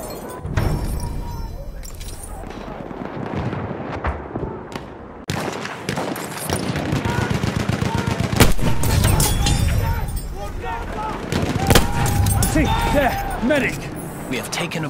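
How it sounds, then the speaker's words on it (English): Enemy machine gun fire and scattered gunshots in the World War I shooter Battlefield 1, rattling bursts over a busy battlefield din, with shouted voices mixed in. "Enemy machine gun, over there!"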